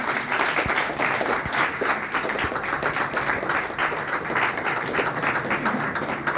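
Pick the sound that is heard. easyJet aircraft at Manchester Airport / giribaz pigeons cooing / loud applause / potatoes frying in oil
loud applause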